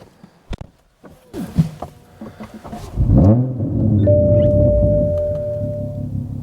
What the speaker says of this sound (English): You guys can hear the sound of that RK titanium exhaust.